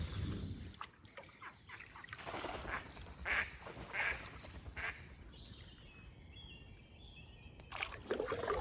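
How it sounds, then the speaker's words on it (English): Ducks and ducklings quack on a canal, calls scattered and moderately near amid water sounds and paddling, with brief louder bursts at intervals. "The baby ducks got separated from the mother duck then, because the mother duck went ahead and the ducklings were still back there"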